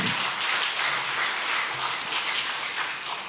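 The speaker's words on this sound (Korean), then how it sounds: "환영의 박수 한번 해주시길 바랍니다." Welcoming applause from a church congregation during a Sunday service, a steady wash of many hands clapping at moderate distance, fairly soft and even, fading slightly at the end.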